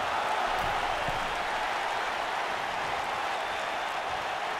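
A WWE 2K19 wrestling crowd at a Virginia Beach show roars and cheers, a steady, broad wash of noise with a couple of faint thumps near the start and no talk over it.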